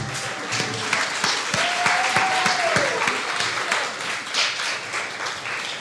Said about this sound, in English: Let us stand a round of applause.